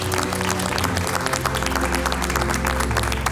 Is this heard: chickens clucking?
no